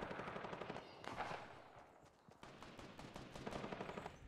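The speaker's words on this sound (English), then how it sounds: "somebody's shooting at you" Rapid bursts of video game gunfire crackle at a distance, with a pause near the middle before the shooting resumes.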